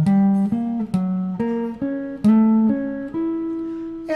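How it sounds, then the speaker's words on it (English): Guitar plays major triad arpeggios a minor third apart, eight plucked notes climbing in a steady rhythm, each ringing clearly and alone without talk. "We're going to play as an arpeggio, and those are a minor third apart."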